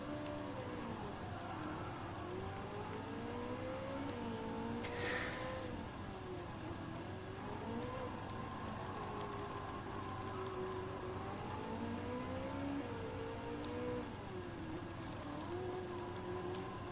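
Ferrari engine in Gran Turismo 7 on PSVR 2, a quiet, distant tone that keeps rising and falling as the car shifts through gears, with a brief burst of hiss partway through and no talking.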